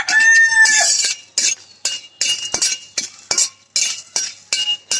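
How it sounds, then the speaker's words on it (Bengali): A rooster crows once in the background during the first second, followed by repeated bright clinks and sizzling as coriander and dry chillies are dry-roasted for oil-free mango pickle. "মোরগকে যে ডাক দিচ্ছে।"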